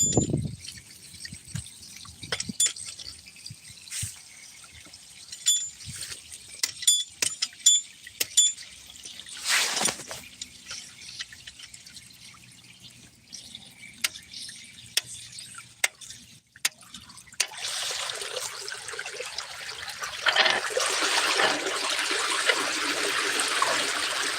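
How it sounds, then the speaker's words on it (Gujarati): Water pours out of an opened farm storage tank. Sparse drips and trickles give way to a steady, louder gushing rush in the final stretch, with no voices. "તો આપણે પાણી ખોલીએ ભમભમ આવતી"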